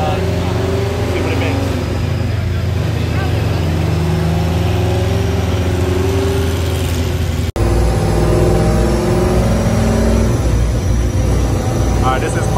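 A race car engine on a dyno, running 20 pounds of boost on race gas, roars loudly and steadily throughout, with a brief dropout partway before the drone resumes even louder, people talking over it.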